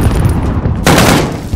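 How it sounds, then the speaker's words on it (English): Dense rapid gunfire in Call of Duty Modern Warfare online hardcore play, loud and continuous bursts crackling right up close, with a sharper burst surging near the end. "I'm getting shot at."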